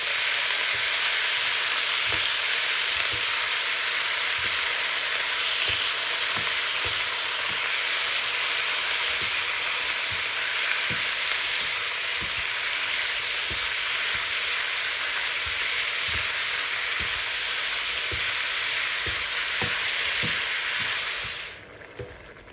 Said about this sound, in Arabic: بس تحمس عندنا اللية بهذا الشكل راح نضيف اللحم الغنم المقطع مربعات